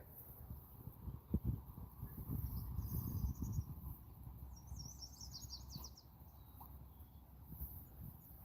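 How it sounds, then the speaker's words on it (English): Birds chirp and call at a dog park in Texas on a sunny day, brief high twittering bursts scattered through the clip over a low rumble of wind and handling noise, a couple of sharp knocks near the start. "There's a ton of birds down there."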